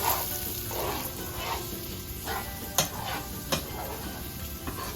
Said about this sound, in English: I stir one more time.